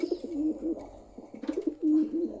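Pigeons in a loft, including a pink and black shorting pair, give soft repeated coos close by, with small rustles between calls.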